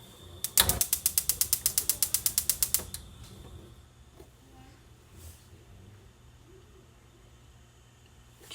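A stove burner is turned on, a rapid series of a dozen or so sharp igniter clicks in quick regular rhythm lasting about two seconds, followed by quiet room sound with faint kitchen handling noises.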